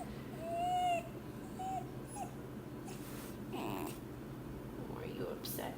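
A three-month-old Australian Shepherd puppy lets out a few soft, high whimpers and short whines, close and faint over a low steady background hum.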